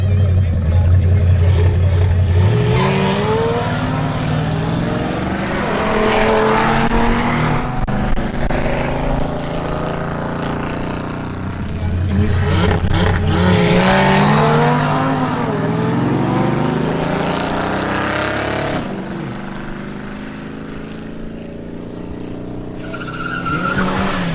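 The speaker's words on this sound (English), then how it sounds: "Now presenting Anthony Julio in his Audi RS3." An Audi RS3 launches and accelerates hard down a drag strip, its loud engine note rising through repeated gear changes with tire noise, close and continuous from start to finish.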